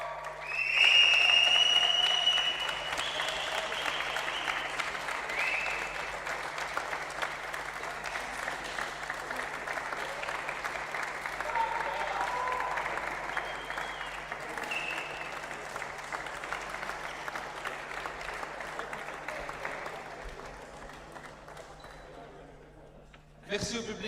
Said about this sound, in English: Merci au public pour vos applaudissements et vos encouragements.